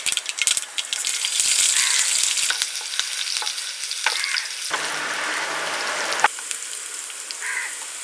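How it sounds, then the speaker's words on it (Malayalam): Half a teaspoon of mustard seeds spluttering in hot coconut oil while tempering for a Kerala chicken curry, giving a dense crackling sizzle with sharp pops. It eases off toward the end. "കുറച്ച് വെളിച്ചെണ്ണ ഒഴിച്ചു അര ടീസ്പൂൺ കടുക് ഇട്ട് കൊടുക്കും"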